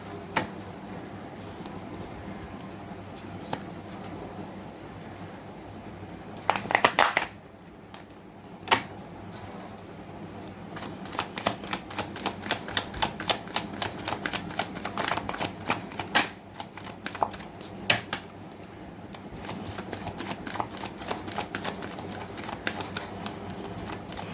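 A deck of tarot cards is shuffled in repeated bursts of quick riffling and flicking, close and fairly loud over a quiet room, with no talking.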